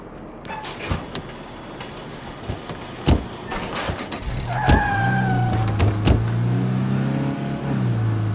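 A vehicle in the zombie survival game State of Decay 2 starts up and pulls away after several door and handling clunks, its engine settling into a steady low drone with rising revs, close and continuous.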